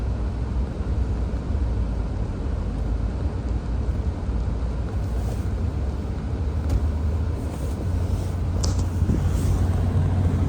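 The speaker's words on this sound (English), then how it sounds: "It looks like another plow's coming, so I gotta put this down in a second." A snow plow truck moves along a road during a major snowstorm, a steady, loud, low engine rumble that fills the whole stretch without pause, with no voices.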